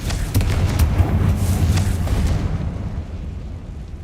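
In Hogwarts Legacy, a Confringo spell explodes with a loud, rumbling boom and crackling debris, then fades over a few seconds.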